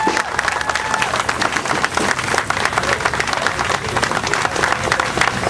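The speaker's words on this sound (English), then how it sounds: "One more round of applause for Shelly Fudge, y'all." Loud, sustained applause from a crowd at a rally in Washington DC, dense continuous clapping with some cheering mixed in, close and full.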